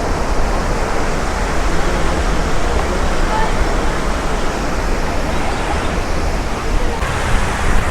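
Athirappilly waterfall thunders in a dense, continuous roar of falling water, loud and steady throughout with no breaks.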